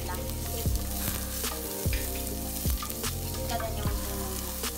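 Sliced onions sautéing in a pan for chicken molokhia, a steady close sizzle with periodic clinks and scrapes of stirring, a short spoken phrase near the start.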